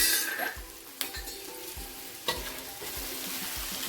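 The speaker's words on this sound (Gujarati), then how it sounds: "સિંગને બધું ફૂટવા માંડ્યું છે" Peanuts crackle and pop as they fry in a pan, with sharp intermittent snaps over a constant sizzle and several thudding stirs, close and clear.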